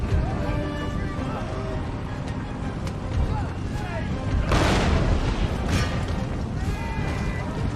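Cannon fire in the video game Empire: Total War: heavy booming blasts roll over a constant rumbling din, with a large burst midway and sharp cracks scattered throughout, loud and close.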